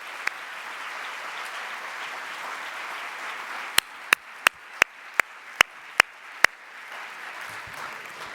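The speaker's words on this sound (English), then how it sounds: "Let's give another warm round of applause." Conference audience applause after a keynote, a broad even wash of many hands clapping, with a handful of sharp, loud close claps punctuating it in a rapid regular series near the end.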